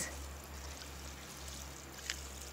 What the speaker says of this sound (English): water my lettuce